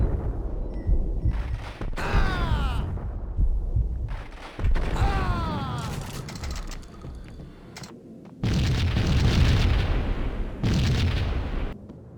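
Bomb explosions in the video game Max Payne, heavy booming blasts and crashing debris in several loud bursts separated by brief quieter gaps.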